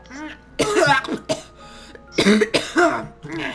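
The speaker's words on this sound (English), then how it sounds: "I had a cough." Several harsh coughs and throat-clearing bursts, close and loud, in an irregular sequence with short gaps.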